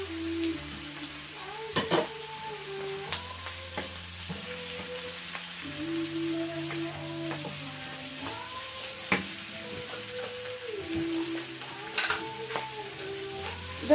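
Steady sizzling of mushrooms frying in a pan for a stir-fry, with occasional scrapes and clinks of a utensil stirring against the metal.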